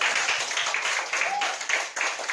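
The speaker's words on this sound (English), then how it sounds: "And another one round of applause for the opposition." An audience at a school mathematics debate gives a round of applause for the opposition team, a full, even patter of many hands clapping in a hall, sustained and unbroken.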